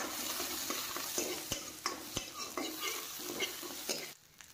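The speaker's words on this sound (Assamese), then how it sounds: "দি গোটেইখিনি অলপ ভালকৈ মিহলি হোৱাকৈ লৰাই ল'লোঁ" Fried okra with onion, chilli and garlic in oil is stirred in a pan, with a loud sizzle broken by repeated sharp spoon scrapes and knocks at an uneven rhythm before the sound suddenly drops away at the end.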